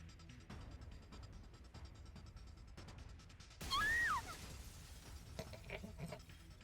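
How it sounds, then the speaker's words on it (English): Glass window shattering in the video game The Hundred Line: a sudden bright crash of breaking glass bursts over low ambient game sound, then scattered tinkling debris trails off. "There was the sound of breaking glass, and then we were in the air."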